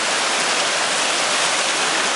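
A waterfall along a hiking trail, a steady, loud, broad rushing roar of falling water with no voices.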